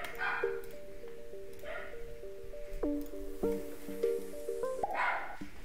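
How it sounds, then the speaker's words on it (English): Two house dogs bark during a live gaming stream, with yips and barks scattered through a tinkling in-game melody, moderately loud and somewhat distant. "they both start barking again"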